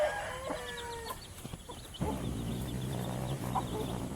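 A parrot-beak breed rooster crows in the first second, followed by clucking fowl and a burst of louder farmyard noise that continues to the end.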